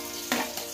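Garlic frying in hot cooking oil for a mud crab dish, a steady broadband sizzle with a brief louder crackling burst as it hits or is stirred, close and alone with no talk.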